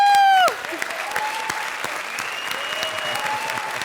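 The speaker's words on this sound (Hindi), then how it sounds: "तो इन टीम्स के लिए जोरदार तालियां प्लीज" Loud studio audience applause at a comedy show, steady dense clapping that carries through the clip after a short tonal sting at the start.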